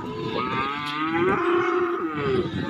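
Cattle mooing at a livestock market selling calves and young bulls, one long drawn-out low moo close by, loud and clear over faint background noise.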